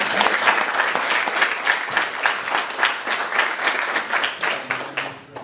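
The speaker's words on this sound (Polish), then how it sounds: "Wielkie brawa" Loud, full crowd applause opening the 18th Zaduszki Jazzowe jazz festival in Pińczów, a continuous wash of clapping that fades slightly at the very end.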